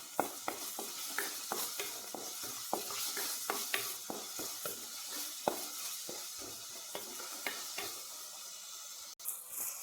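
Tomato fries in a pan for egg rice, a continuous soft sizzle broken by regular light scraping and tapping of a spatula, close and fairly quiet.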